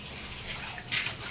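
Fish being washed in water before cutting, a steady close splashing and swishing of water throughout, briefly louder near the end, with no voices.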